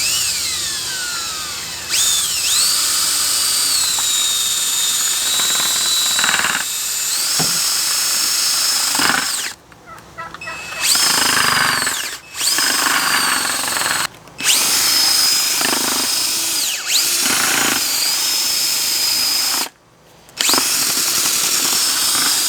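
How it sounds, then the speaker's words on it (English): A power drill fitted with an auger stirs a thick sugar mixture for bee sugar bricks, whining loudly in repeated bursts, with short pauses where the motor stops and the pitch shifts as it speeds up and slows down. "I'm going to use the drill with an auger."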